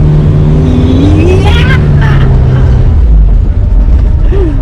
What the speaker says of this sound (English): 1991 Petrol Premier Padmini right away, and there it goes to life.